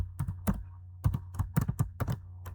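Short bursts of keystrokes on a computer keyboard while entering program code, close and fairly quiet, grouped into quick clusters separated by brief pauses.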